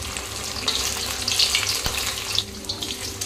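Paneer cubes frying in hot oil for restaurant-style chilli paneer, a steady crackling sizzle with brief spatters and one sharp clatter midway, close and fairly loud with no talk.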